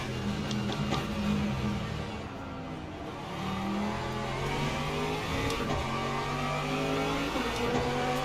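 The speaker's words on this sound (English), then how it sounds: "Couple more LMp2s catching up to us." Several LMP2 race car engines whine and rev in Le Mans Ultimate, rising and falling in pitch through gear changes as the cars close in, loud and continuous with no talking.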